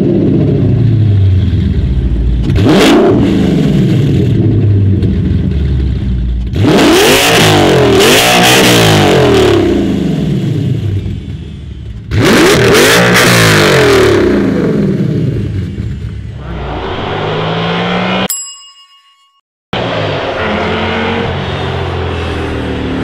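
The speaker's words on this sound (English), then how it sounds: "Being straight piped, it's a custom exhaust all the way back." A loud, raw straight-piped V10 engine in an Audi S4 revs hard three times in bursts, each rising and falling with a crackling exhaust roar, settling into a rumbling idle between.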